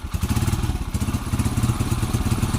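A motorcycle engine with a slipping, worn clutch lining runs close in a rapid, even thumping chug, loud and steady throughout.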